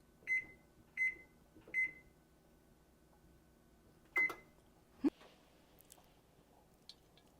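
Oven control panel beeping while being set to 425 degrees: three short even beeps in a row, a pause, then a fourth beep followed by a sharp click and faint rustling, all close and with no talking.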